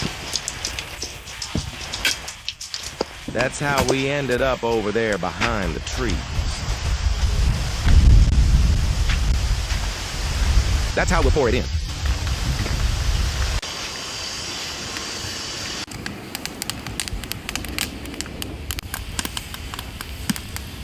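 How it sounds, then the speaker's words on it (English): Rain falls in a forest on an off-grid farm, making a steady patter with bursts of wind buffeting the microphone. Someone talks over it at times. "Oh, it started raining."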